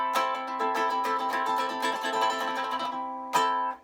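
A Pignose ukulele strummed through its small built-in speaker, giving a boxy, somewhat nasal tone, a quick run of strums ringing out and fading before one final strum, fairly quiet and close.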